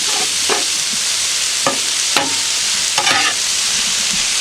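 Meat for French dip sizzles steadily on a Blackstone griddle, a close, constant hiss broken by a few sharp scraping stirs of a spatula, with no voices.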